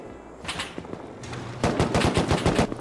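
Automatic turrets in the video game Rust open fire in rapid, clattering bursts that grow louder and denser partway through.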